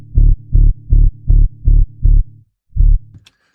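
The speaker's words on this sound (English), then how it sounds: "I'm gonna have that like slide down effect." Seven booming hard techno bass kicks in a steady rhythm, each thick and distorted, the last one sliding down in pitch before a short glitchy tail.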